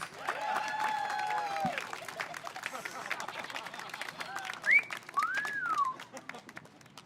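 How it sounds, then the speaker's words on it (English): An outdoor summer concert audience at the National WWI Museum applauds a whistle soloist: scattered clapping runs throughout, joined by a few loud, sweeping whistles and some cheering. "another round of applause for our whistle soloist?"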